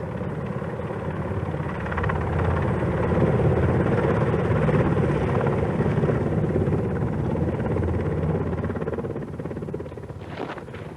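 A military helicopter landing on a narrow mountain ledge in 1960s Yemen; its rotor and engine roar steadily at close range, swelling slightly louder mid-clip before easing off toward the end.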